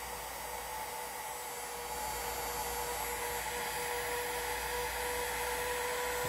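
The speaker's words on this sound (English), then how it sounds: "So we're gonna give that a shot with this heat gun" A heat gun blows hot air onto an ASUS Dominus Extreme motherboard, producing a constant whooshing hiss with a steady high-pitched whine and a low hum underneath. It is close and unbroken, with no talking.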